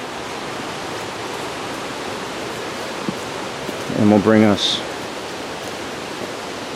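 A river flows beside a mountain hiking trail near Owl Head Mountain with a steady broadband rush, close and constant, while someone speaks briefly over it midway.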